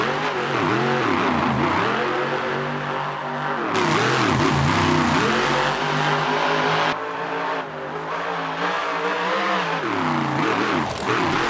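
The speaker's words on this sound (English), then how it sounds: "Truck got one of them louder exhausts too." A loud monster truck engine roars and revs repeatedly with a raspy exhaust during a Monster Jam freestyle run in Indianapolis, pitch sweeping up and down, heard continuously at close range.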